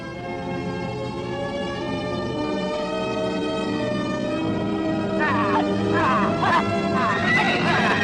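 Horses whinny and neigh loudly and close by in a Western setting, their calls rising over a dense, busy background with steady harmonic tones; the neighing grows stronger in the final seconds.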